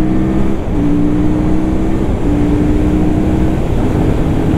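A QJMotor SRK 600 roadster motorcycle engine runs loud and close, a steady low droning note that steps up and settles at modest revs, with no talking.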